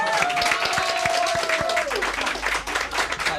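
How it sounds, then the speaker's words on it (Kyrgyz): An audience claps for Ilyaz in a studio show: brief, dense applause from a small crowd, loud and close, with some music tones underneath. "Ильязга бир кол чаап коелу"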